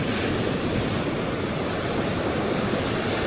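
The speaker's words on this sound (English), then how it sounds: "Water is really rough." Rough ocean surf crashes steadily onto the shore of a bay, a dense, continuous roar of breaking waves with some wind noise, loud and close with no voices.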